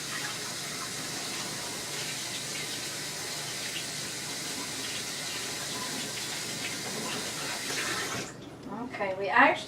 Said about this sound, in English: I'm going to go ahead and wash this off.